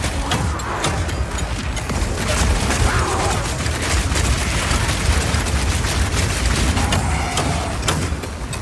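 Explosive grenades going off in the video game Path of Exile 2, heard as a dense, unbroken barrage of loud blasts and crackling detonations that fills the whole stretch.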